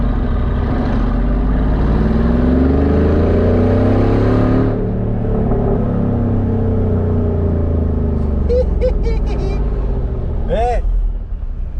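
Mercedes G63 AMG 6x6 with an 840 hp engine, revving hard and close for several seconds as a deep, sustained roar, then settling to a steady idle rumble while people talk over it.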